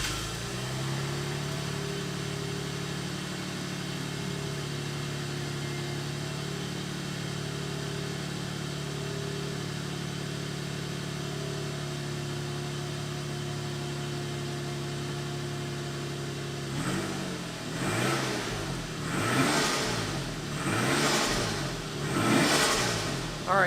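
A Toyota Aristo engine idles with a steady low drone, then is revved several times in sharp, rising bursts close to the microphone, exhaust louder with catalytic converter and mufflers removed.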